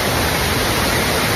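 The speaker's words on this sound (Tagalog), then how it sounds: "Maingay lang ang tubig. Ang agos ng tubig" Water rushes steadily at a river pool in a sacred indigenous place, a dense, loud, unbroken hiss of flowing current with no pauses or voices.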